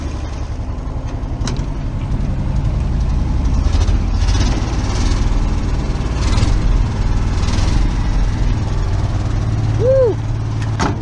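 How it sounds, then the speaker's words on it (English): An old, long-unused Ford crew cab truck engine runs at a loud, rough, steady idle close by, with voices briefly audible over the rumble. "Megan said we don't even need a new engine now. She likes how this one sounds"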